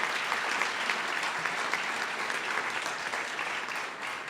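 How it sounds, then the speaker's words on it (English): Audience at an annual award dinner applauds a graduating student, a steady wash of many hands clapping at moderate level, continuous and even throughout with no voices standing out. "So let's give him a round of applause."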